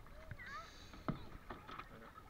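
Kayak paddle strokes dip and splash in the water in a few quick, close strokes, with light talk and ambient voices over them.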